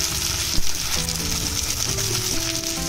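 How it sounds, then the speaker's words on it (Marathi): Ginger garlic paste sautés in hot oil for chicken keema masala, a loud, steady sizzle with a brief spatter burst and a stirring scrape, while low tonal background hum runs underneath. "आणि पुन्हा 1 मिनिटभर आलं लसूणचा उग्रपणा कमी होईपर्यंत आपण परतून घेऊया।"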